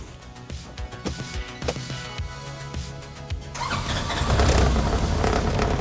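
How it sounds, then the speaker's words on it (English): A Polaris Ranger 1000 UTV is started after a belt replacement, with the starter cranking in uneven pulses before the engine catches and settles into a louder, steady running roar. "Let's go ahead and fire up the machine and see how this is looking."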